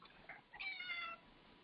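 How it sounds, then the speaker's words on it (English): A house cat meows once, a short clear call with a brief fainter lead-in, close by in a quiet room. "Y'all hear my cat Bassett."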